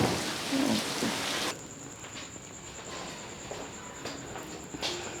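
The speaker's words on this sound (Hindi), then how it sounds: "बाहर भी निकल जाए अगर बारिश आ रही है नहीं बारिश तो हो रही" Steady rain falls outdoors, a constant hiss with scattered drops hitting surfaces and a faint distant rumble; louder for the first moments, then softer.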